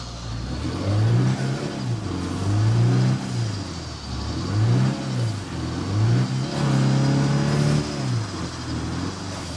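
In State of Decay 2, a car engine revs repeatedly while driving, with several swelling surges that rise and fall in a steady rhythm, loud and close, with no talk.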